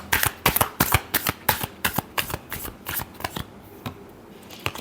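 Tarot cards being shuffled by hand in a final shuffle, a quick run of crisp riffling flutters and soft slaps, about a dozen bursts in steady rhythm, close and fairly loud with no talking.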